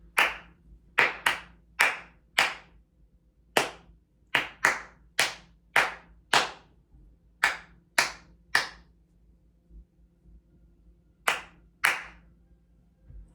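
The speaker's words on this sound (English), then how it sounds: "let's see if you can clap along with me as we do it" Hands clap along to a rhythm, sharp close single claps in an uneven pattern with brief pauses between groups and a longer gap near the end.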